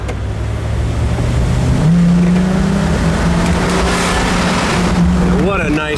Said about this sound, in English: We punched it down, shifted from second to first. Kickdown works great.